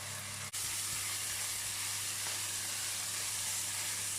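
A whole garlic clove sizzles in a frying pan beside parsley, with a steady, close, loud hiss of frying that runs unbroken after a brief dip at the start.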